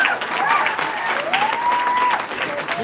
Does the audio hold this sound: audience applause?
yes